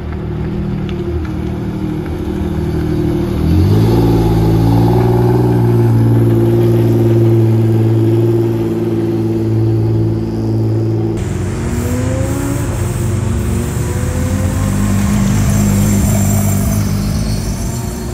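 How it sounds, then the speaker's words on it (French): A Renault Sport RS01 race car approaches on the Le Mans circuit, its engine roaring loud and close, pitch climbing and shifting through gears as it draws nearer, with no voices. "La RS01 qui arrive."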